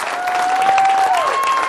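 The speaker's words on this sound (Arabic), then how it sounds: "بيان تصفيقة حار عليكم" An audience claps in a sustained burst of dense, fairly loud applause, with a whistle-like tone running through it.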